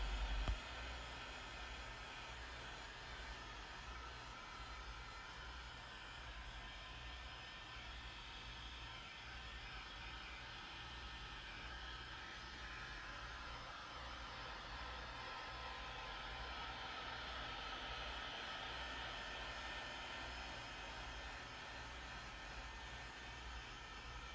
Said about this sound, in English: I'm going to make 2 trips around the tire, waving the heat gun back and forth, keeping it in between 4 and 6 inches away from the tire